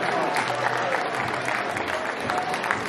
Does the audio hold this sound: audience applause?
yes